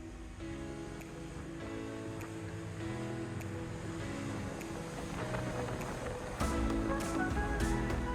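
Aquila 28 Molokai power catamaran running at speed through waves, with steady loud engine drone, rushing water and wind buffeting, building slightly louder near the end.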